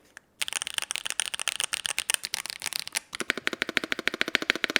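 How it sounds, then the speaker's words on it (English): Typing on a Ducky 13SF mechanical keyboard with lubed Akko Ocean Blue tactile switches: fast, steady runs of close, crisp clicks and clacks, alone, shifting to a more regular rhythm partway through. "This is what it sounds like."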